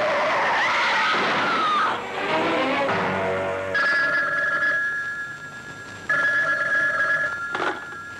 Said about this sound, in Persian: بهزاد خان تلفن